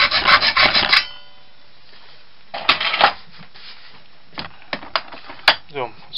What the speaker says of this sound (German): Und dann säge ich das eben einmal durch.